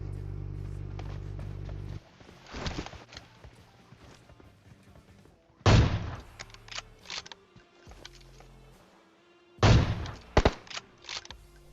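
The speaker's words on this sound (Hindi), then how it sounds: "ब्रिज पे आता हूँ और गोलियां चल रही होती हैं" Bursts of rapid gunfire erupt three times over a low background hum, with scattered shuffling and thuds between volleys, in the shooting game PUBG.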